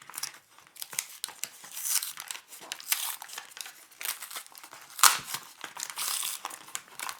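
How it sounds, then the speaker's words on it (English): A penknife cuts into a plastic blister pack for a Gerber Paraframe Mini knife, giving close, faint crinkling and scratchy crackles in irregular bursts, with one sharper snap partway through. "let's use a penknife here and very carefully make a cut into the blister"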